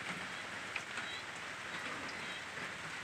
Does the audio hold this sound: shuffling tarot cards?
no